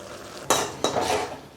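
A spoon scrapes twice through a peanut and bottle gourd stir-fry in a pan, two short scraping strokes close to the microphone over a faint sizzle.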